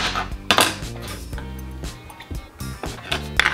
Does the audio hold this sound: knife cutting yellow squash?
yes